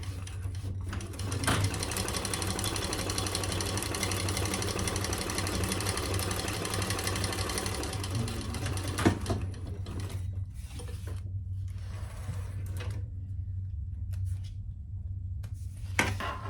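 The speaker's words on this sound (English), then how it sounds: "And sew that with a 1/4 inch." A sewing machine stitches a seam on a fabric bag at a quarter-inch allowance, running in a steady close whir for about nine seconds, then stopping and giving a few separate mechanical clicks and short bursts.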